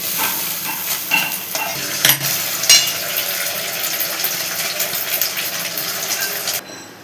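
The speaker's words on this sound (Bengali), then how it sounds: "অন্য কড়াইতে আমি ডিমের অমলেটগুলি করে নিচ্ছি।" Egg omelettes fry in a separate kadai, giving a steady broad hiss and sizzle with a few scraping clicks, close and fairly loud, until the sizzle cuts off near the end.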